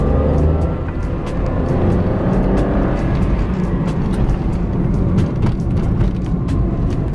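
A Daihatsu Sigra M manual seven-seater with a 1000 cc, 67 hp engine accelerates with a steady, loud engine drone and road roar, heard from inside the cabin, dotted with faint clicks.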